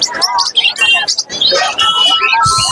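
Budgerigars chirp and twitter in quick bright bursts at a pet bird market, fairly close, with a voice talking over the birdsong.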